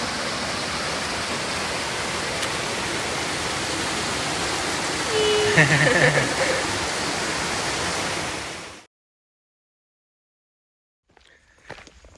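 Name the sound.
waterfall on the Appalachian Trail, Grayson Highlands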